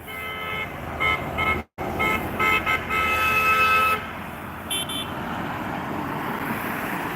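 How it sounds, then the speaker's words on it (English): Car horns honk repeatedly in passing traffic outside a state prison during a guards' strike, several overlapping toots and longer blasts over steady road noise, fairly close and loud, then fading to traffic rumble. "As traffic goes by, the parade of horns also goes by."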